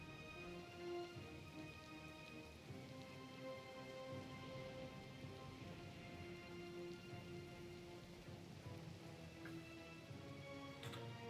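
Rain patters steadily on a ship's deck during a storm in the Pillars of Eternity video game, a dense, even wash of drops mixed with a low constant rumble and faint sharper hits, with no voices.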